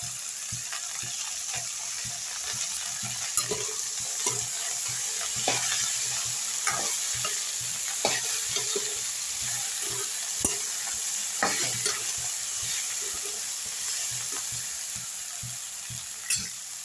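Oil and okra stir-frying in a pan for a tender okra stir-fry, with a steady close sizzle and repeated scraping stirs of a spatula throughout, no voices.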